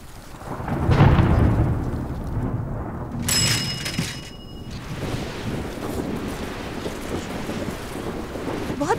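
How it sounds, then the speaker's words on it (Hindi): Thunder rumbles loudly at the start of an approaching heavy rainstorm, followed by a steady rush of rain and wind. A brief high whistling tone cuts in partway through. "बहुत तेज बारिश होने वाली है"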